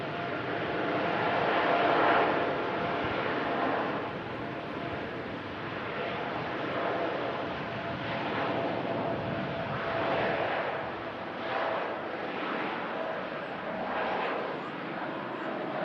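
Boeing Dreamliner arriving at Manchester Airport from Gatwick gives a soft, distant, steady jet rumble with gentle swells, faint and outdoors, with some wind buffeting and voices at low level.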